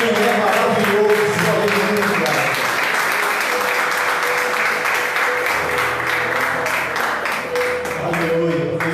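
A church congregation applauds together during a worship service, a steady, dense wash of clapping filling the whole stretch with loud, continuous energy and no pause.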